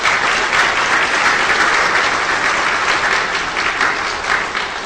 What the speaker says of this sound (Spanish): mi entrañable amigo Omar Fernández, a quien pido por favor un aplauso.